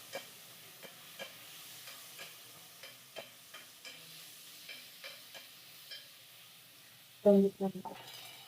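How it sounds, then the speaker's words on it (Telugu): Onion and drumsticks frying in oil for a dhaba-style drumstick dal, a soft steady sizzle with regular light taps of a spoon stirring the pan, ending in a brief louder clatter of metal. "మునక్కాయలు వేసుకుంటున్నాం. మునక్కాయలు కూడా ఎందుకంటే కొంచెం నూనెలో ఉడికితే బాగా టేస్ట్ వస్తుంది."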